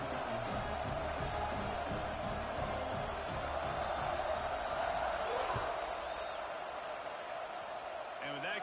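A football stadium crowd roars in a steady, dense wash of cheering just before kickoff, with no pauses across the whole stretch and faint scattered shouts rising within the din.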